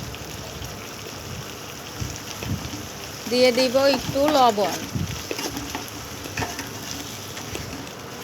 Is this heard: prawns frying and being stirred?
yes